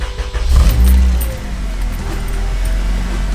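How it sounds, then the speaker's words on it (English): A 3.4-second recording of an Acura RSX with an electric power steering conversion being started: a short, loud cranking burst catches within the first second, then the engine settles into a steady, close-up idle rumble. "Let's turn this car on."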